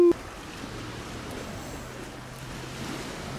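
Sea waves wash against the shore on an early evening, a steady broadband rush with wind noise across the microphone, continuous and fairly near.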